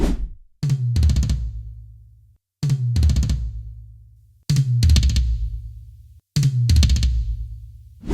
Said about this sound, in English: Here's what the toms sound like before.